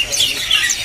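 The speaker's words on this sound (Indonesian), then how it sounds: "Berikutnya kita kasih penampakan buat burung pleci bustomi teman-teman" A pleci bustomi white-eye chirps a few thin, high tweets close by at a bird market, short quick notes over faint background noise.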